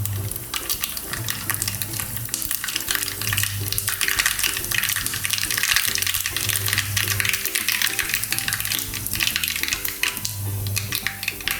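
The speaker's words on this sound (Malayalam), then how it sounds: "താളിക്കാനായിട്ട് കടുകിട്ട് പൊട്ടുമ്പോൾ വറ്റൽമുളക് ഇടാം." Mustard seeds spluttering in hot oil for tempering beetroot pachadi, a continuous crackling sizzle with scattered pops, steady and close throughout, with a low hum underneath.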